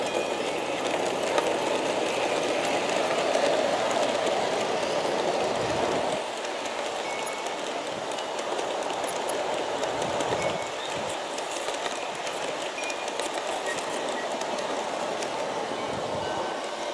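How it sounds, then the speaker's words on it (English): An Aristo-Craft Mallet model steam train on a garden layout rolls down a grade with a steady rumble and rail clatter, heard at a moderate distance and without talk for about seventeen seconds. "we got a glimpse of the train coming down the grade here"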